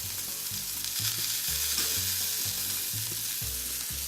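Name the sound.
lamb loins searing and sizzling in a pan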